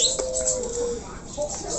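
A caged Hong Kong myna (jalak) gives a few clear whistled calls and short chirps, close and fairly loud against quiet background, with a brief rising note near the end.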